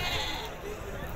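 Sheep bleat at the Tuesday livestock market in Azrou, Morocco, a short nearby bleat mixed into close conversation and the background hubbub of the crowd.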